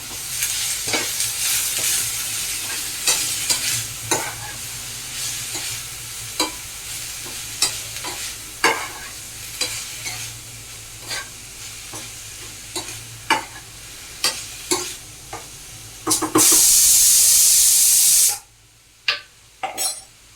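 Machine-cut cabbage being stirred in a hot pan, with repeated spatula scrapes and scoops over a constant frying sizzle, then a brief louder hissing burst before a quieter stretch and a few final stirs.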